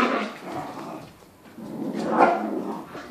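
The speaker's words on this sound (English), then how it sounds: "There's my dogs." Puppies 7.5 weeks old scuffle and make soft whimpers and small growls nearby, a busy, low-level rustling with brief yelps, no speech.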